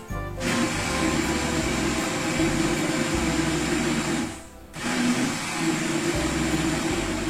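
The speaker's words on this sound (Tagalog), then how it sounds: "I-blend naman po natin." A blender purees cooked, softened pumpkin for soup, a loud whirring motor that runs steadily, cuts out briefly partway, then starts again and keeps going, with no talking.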